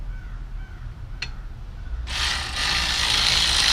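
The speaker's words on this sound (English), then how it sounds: "So I can unbolt the caliper," Ratchet clicks while unbolting a brake caliper on a first-generation Chevy Cruze, a quick rattling run of clicks near the middle, then louder broadband mechanical noise continuing to the end.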